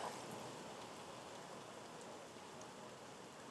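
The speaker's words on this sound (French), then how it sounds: "Maintenant, la pluie nous chasse." Rain falls steadily outdoors, a faint, even hiss of drops that never lets up and has no distinct spikes.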